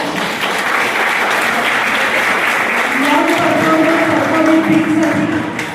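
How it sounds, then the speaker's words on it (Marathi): Audience applause at a Women's Day stage play, strong sustained clapping throughout, with a voice starting up faintly beneath it in the second half. "एकदा जोरदार टाळ्या"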